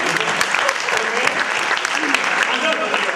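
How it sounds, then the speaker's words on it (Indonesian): Seminar audience applauding in a hall during a financial seminar, loud and sustained clapping from a large crowd with voices mixed in underneath. "Tepuk tangan dulu, juta sampai 10 miliar"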